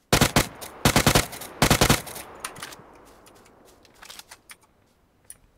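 Bursts of Uzi submachine-gun fire in the mobile shooter PUBG Lite: three rapid, loud volleys in the first two seconds, then scattered fainter distant shots trailing off.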